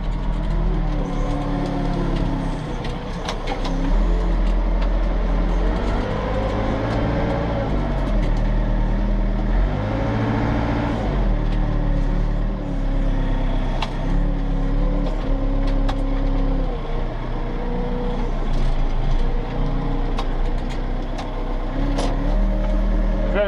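A 1992 JCB 3CX backhoe loader being driven, its diesel engine giving a steady, loud low rumble with gentle rises and falls in revs, heard from the cab without talk.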